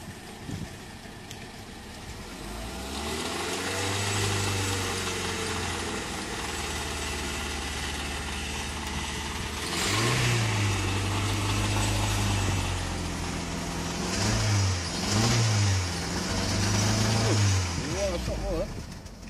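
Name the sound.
Proton Saga BLM 1.6 engine idling then revving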